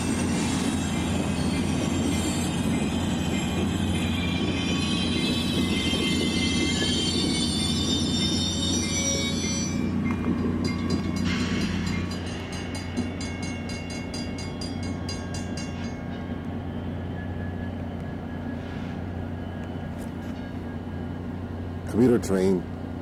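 Helper locomotives rumble past on the tracks with a steady heavy roar and occasional wheel squeal, then the noise thins and settles to a lower rumble near the end.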